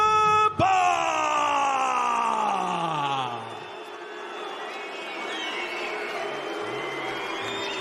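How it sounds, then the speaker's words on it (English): Arena crowd at an FNC 27 MMA event in München roars and cheers for hometown Austrian fighter Elias Erber, a loud sustained swell with yells and a long groaning cry on top, easing slightly then holding steady. "you can hear the crowd give it up for this hometown boy, Elias Erber"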